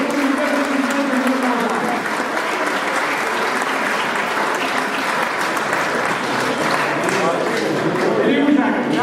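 Applause fills a rally awards ceremony, a steady sustained clapping from a crowd that holds at an even level throughout, with faint voices mixed underneath.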